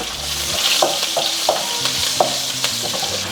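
Hot oil sizzling and crackling steadily in a pan as green chillies fry, with a few light taps of stirring at irregular intervals, close and fairly loud.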